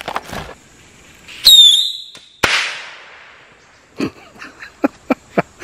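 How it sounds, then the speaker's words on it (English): A firecracker set off on mushrooms gives a brief rising whistle, then one sharp, loud bang that trails off into a fading rumble. A few quick pops and crackles follow. "Let's blow up some mushrooms."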